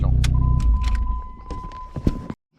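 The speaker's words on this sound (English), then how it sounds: "blue car, we are revving it" A blue car's engine revs in the opening second as a strong low rumble with harmonics, then settles while clicks, small knocks and a steady whine follow near the end.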